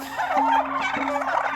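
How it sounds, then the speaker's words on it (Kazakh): A five-month-old turkey gobbles close by in a loud, rapid, warbling burst lasting over a second, with no other sound competing. "Мен көріп тұрғандарыңыздай 5 айлық күрке тауық."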